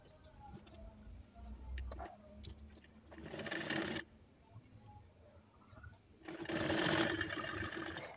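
Domestic sewing machine stitching together fabric pieces cut from old clothes into a pillow cover, running in two loud bursts of steady rapid whirring with quieter handling sounds and pauses between.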